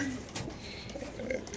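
Two pairs of young Pakistani pigeons in a cage give soft, low cooing calls over a steady murmur of background noise, faint and close by.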